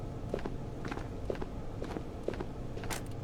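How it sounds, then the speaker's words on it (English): Footsteps in an online survival shooter patter steadily, a regular run of soft, close thuds under faint background ambience, with no talking. "I hear footsteps still."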